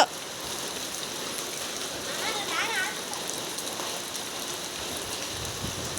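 A downpour of heavy rain keeps up a constant close hiss, with water running along outside a house; a voice is faintly heard partway through.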